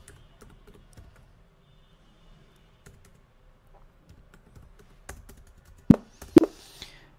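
Light, sparse keystrokes on a computer keyboard, quiet and close, followed by two sharper, louder key presses near the end, like the Enter key being struck.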